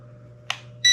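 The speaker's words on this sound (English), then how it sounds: "Power on the drone by long pressing. You'll get your beeps." An S162 Max mini drone powers on with a short chirp followed by a sustained bright electronic beep, close and alone.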